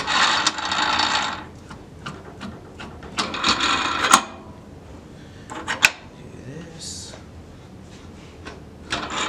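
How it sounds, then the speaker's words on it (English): A knife trimming excess screen-printing mesh around the outer edge of a screen frame, giving bursts of scraping and cutting noise with scattered clicks and taps, close by. "Run the knife along that outer edge, which will leave plenty of like excess around the screen."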